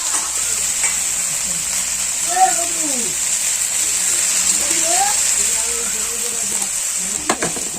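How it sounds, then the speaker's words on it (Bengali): Kalmi and kulpo greens frying in a pan with potatoes, stirred with a utensil; a steady close sizzle with scraping stir strokes, while a voice talks over much of it. "আমাদের কলমি আর কুলপো শাকগুলো ছিল সেগুলো আমরা দিয়ে দিচ্ছি, দিয়ে একটু নেড়ে নেব"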